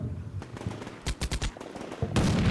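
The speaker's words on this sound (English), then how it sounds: "Now, got gunfire coming down here." Short bursts of video game machine-gun fire from Combat Mission: Shock Force crack out, including a quick string of evenly spaced shots, followed by a louder rushing blast at the end.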